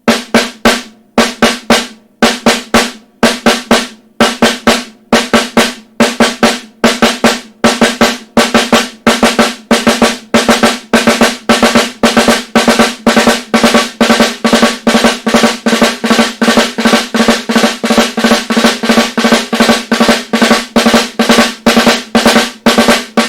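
Crisp single-stroke drum hits repeat as an eighth note followed by two sixteenths, a fast, even pattern that gradually tightens and speeds up, loud and close.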